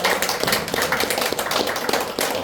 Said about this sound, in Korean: 환영으로 박수로 감사합니다